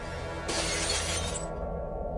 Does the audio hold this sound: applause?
no